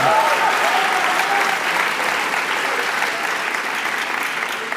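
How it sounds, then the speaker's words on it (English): A graduation crowd gives a round of applause at an MBA and EMBA ceremony, with dense, steady clapping filling the hall throughout and easing slightly toward the end. "but please a round of applause as well."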